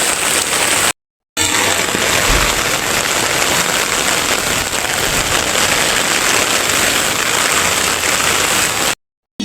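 Heavy rain pours steadily outside a small neighborhood sari-sari store, a dense, unbroken hiss of drops drumming on surfaces with no voices, interrupted only by two brief cutouts.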